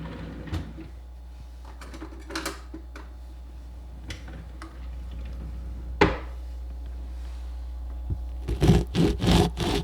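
A knife slices an orange with sparse, quiet scraping strokes and small ticks. Several louder, rhythmic cutting bursts follow near the end, all close and with no talking.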